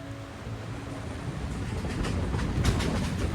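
Steady low rumble and clatter of a moving Vasai to Panvel MEMU passenger train, heard from inside at a window seat, growing slightly louder toward the end.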